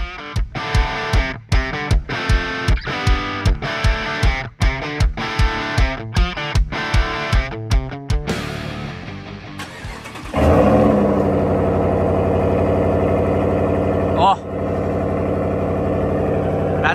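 A Ram 1500's 5.7 Hemi V8 cranks through a rapid series of rhythmic starter pulses, then catches and settles into a loud, close, steady idle with a brief dip near the end.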